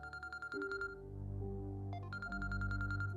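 A phone rings in a domestic drama scene, with bursts of electronic warbling tones repeating before and after a held, sustained tone underneath, fairly faint and with no voices.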